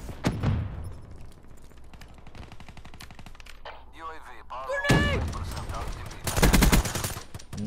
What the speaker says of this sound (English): Oh, somebody's shooting at me.